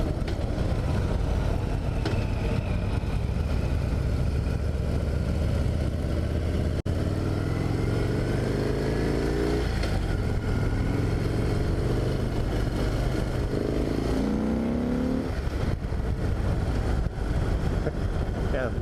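A 2017 Harley-Davidson Dyna Low Rider S motorcycle engine under way, a loud steady rumbling drone with shifting pitch as the throttle changes, heard alongside strong wind noise for the whole stretch.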